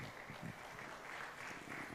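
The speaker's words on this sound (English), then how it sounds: "Let's give a round of applause to Moses." Audience applause at an ICT clubs competition finals in Uganda, a steady but faint patter of clapping with no voices.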